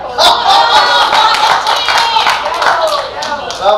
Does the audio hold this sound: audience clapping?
yes